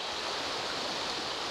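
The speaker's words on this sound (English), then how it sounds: "Nice bend in the river." A river rushing around a bend in the Cascades, a steady broadband roar of flowing water close by, constant and unbroken.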